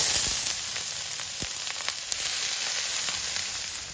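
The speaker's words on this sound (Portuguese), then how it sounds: "vou colocar 1 fio de azeite e a gente vai dourar a cebola" Onion fries in olive oil in a pan, giving a steady, hissing sizzle with scattered small pops and crackles.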